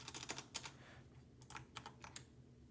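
Typing on a computer keyboard while coding in Godot 4: quick clusters of crisp, close key clicks with short pauses between bursts, faint and alone.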